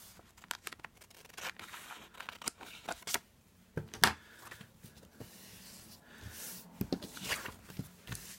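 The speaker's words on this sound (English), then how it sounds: "so I'm just going to trim that off" Scissors trim away an overlapping strip of paper during a card-making craft, producing close, irregular snips and papery rustles with brief pauses between cuts, and no voices.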